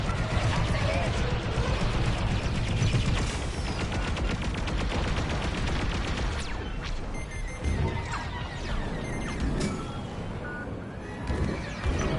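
Dense, continuous space-combat barrage of blaster fire and impacts from Star Wars: Squadrons, loud and busy for the whole stretch, with crashing hits and engine noise layered in, under bursts of voices.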